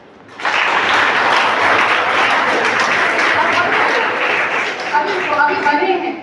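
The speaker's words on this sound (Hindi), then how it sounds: "ताली बजाओ।" An audience at a legal literacy campaign event bursts into sustained, loud applause that holds steady for several seconds, with voices rising faintly near the end.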